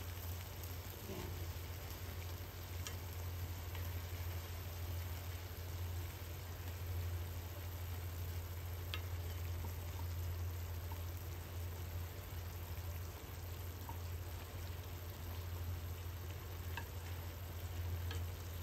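Eggplant cooks in a pan with a steady, continuous sizzle and occasional stirring, holding constant and moderately faint throughout with a low steady hum beneath it.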